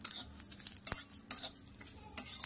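Spices dry-frying and being stirred in a pan for tamarind pickle, with soft scraping stirs and sharp clinks of a utensil against the pan, several distinct knocks over a faint steady sizzle, close and fairly quiet.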